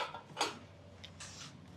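A bowl is set down on a kitchen counter while jonna rotte is being made, giving a couple of faint clinks followed by a soft scrape, quiet and close.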